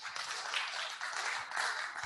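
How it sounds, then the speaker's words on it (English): Faint audience applause at a book talk welcoming Betty, a steady patter of clapping from a modest crowd heard at a distance, without voices. "Let's give it a round of applause for Betty"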